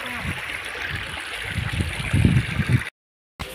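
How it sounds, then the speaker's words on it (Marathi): A small hillside stream trickles and gurgles steadily near a farmhouse, a continuous close watery wash that cuts out suddenly before resuming briefly. "छोटीशी नदी आहे मग"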